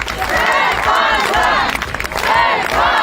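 A crowd outside a diocesan headquarters cheers and claps in welcome for an archbishop, loud waves of shouting and whoops with applause rising and falling throughout.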